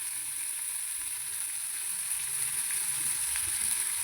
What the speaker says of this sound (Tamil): வெங்காயம், பச்சை மிளகா, கருவேப்பிலை எல்லாத்தையும் போட்டு நல்லா வதக்கணும்